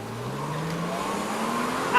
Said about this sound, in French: elle ne fait pas assez de bruit à l'échappement